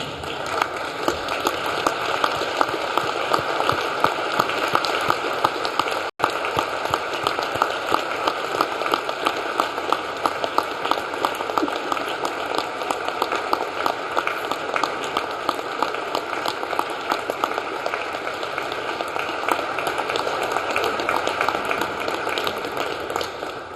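Graduates in a university hall at a graduation ceremony give their supporters sustained applause, a dense steady wash of many hands clapping that continues unbroken for over twenty seconds.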